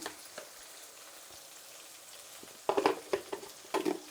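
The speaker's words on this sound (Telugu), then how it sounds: "ఇందులోనే కరివేపాకు కూడా వేసుకునేద్దాం." Tempering for sambar frying in a pan with onion, green chilli and curry leaves added: a soft steady sizzle that swells into several louder crackling, spitting bursts near the end, with no talk.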